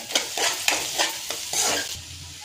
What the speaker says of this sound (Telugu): అల్లం వెల్లుల్లి పేస్ట్ అలాగే ఉల్లిపాయలు బాగా వేగాయండి